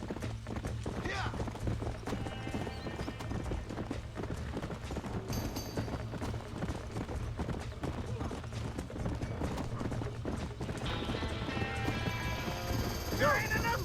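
Horses gallop with rapid clip-clop hoofbeats and occasional whinnies in a Red Dead Redemption game scene, under shouting voices, a steady low rumble and scattered mechanical clatter, continuing throughout.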